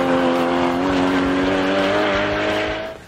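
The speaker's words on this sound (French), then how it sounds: "S'il y a une chose à retenir qui est vraiment extrêmement envoûtante dans cette Cayman GT4, c'est juste la sonorité de son moteur." Porsche Cayman GT4 with a 3.8-litre flat-six engine revving hard, a loud, sustained rising howl with strong harmonic tones, held near and steady for about three seconds before cutting off.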